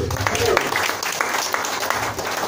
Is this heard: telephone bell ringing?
no